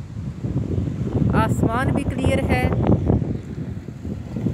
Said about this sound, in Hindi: तेज़ तेज़ हवा चल रही है।